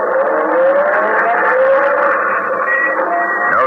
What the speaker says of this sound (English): Then start the car and drive until I tell you to stop.